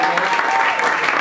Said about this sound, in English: Yeah, you can clap for that first one.